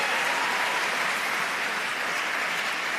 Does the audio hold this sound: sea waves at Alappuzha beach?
no